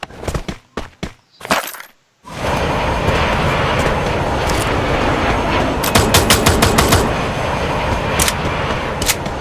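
Gunfire in the mobile battle-royale game Free Fire: a few loud separate shots open, then a dense, sustained burst of automatic fire with rattling bursts near the end, and no speech.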